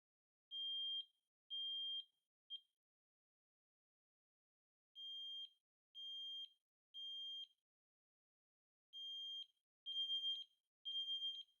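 Three interlinked smoke alarms sound during a test, giving loud, piercing electronic beeps in groups of three with pauses between groups, the later groups slightly overlapping, and no talk.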